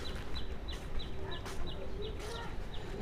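Chickens cluck in a blanket-lined box on a rooftop in winter, with short calls repeating steadily over a constant low background hum.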